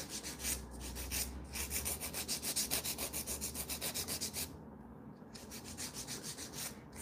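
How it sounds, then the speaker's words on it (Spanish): A nail file rasping over dip powder nail extensions on very short nails, fast rhythmic back-and-forth strokes, close and steady, with one brief pause midway and no talking. "Siempre tenemos que limar dos veces, como ustedes pueden ver."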